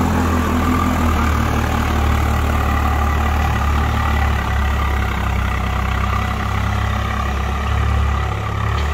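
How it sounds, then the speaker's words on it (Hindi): A Swaraj 744 FE four-wheel-drive tractor's diesel engine runs with a steady, heavy low drone and constant mechanical chatter, close and loud throughout with no voices. "ये आप परफॉर्मेंस देख रहे हो स्वराज 744 एफवी 4-स्टार 4-व्हील ड्राइव ट्रैक्टर का।"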